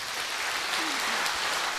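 Audience applause at a Kyrgyz stand-up comedy show, a steady, dense crowd clapping that fills the whole short moment at an even level.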